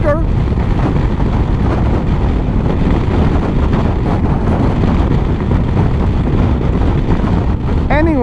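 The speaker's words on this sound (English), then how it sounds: "the windscreen is very small and it's very loud now" Riding a Kymco DT X360 scooter with a small windscreen at speed gives a loud, constant roar of wind buffeting and engine noise that fills the whole stretch and leaves no quiet gap.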